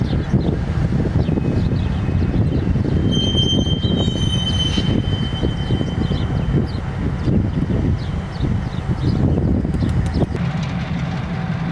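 A freight train carrying potash rolls steadily past nearby in Stevens Point, its heavy rumble continuous, with thin metallic wheel squeals rising intermittently above the clatter.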